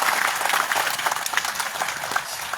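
Applause from an audience at an offline teaching event in Kolkata, a dense, steady wash of many hands clapping loudly throughout without a break.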